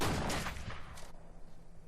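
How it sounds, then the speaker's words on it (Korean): A single gunshot rings out in a film scene at a dead end during a chase, a loud broadband crack that fades into a lingering rumble over the next second or so. "그리고 이어지는 한 발의 총성"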